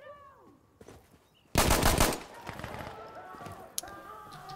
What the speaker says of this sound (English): that's a machine pistol